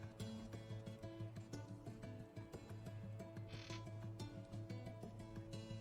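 Frog in the video game The Last Campfire, croaking in steady repeated pulses over a layered, tonal game soundscape, fairly quiet and with no talking.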